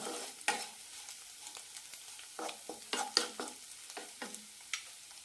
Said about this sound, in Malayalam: എണ്ണയിൽ കിടന്ന് മസാല ഒന്ന് റോസ്റ്റ് ആവണം.